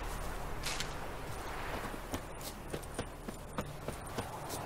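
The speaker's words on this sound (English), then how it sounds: "Come on, horse." Horse hooves clop in a steady walking rhythm in The Witcher 3, a series of distinct muffled thuds over a constant outdoor game ambience.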